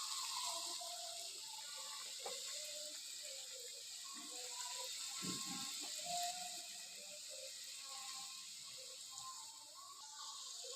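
Food frying gently on low heat gives a faint, steady sizzling hiss, with soft intermittent clicks and tonal sounds in the background.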